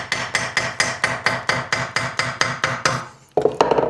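Ball peen hammer striking gasket paper laid over a part to cut out a motorcycle gasket, a steady run of about a dozen sharp close taps at even pace, then a brief pause and a quicker burst of lighter taps.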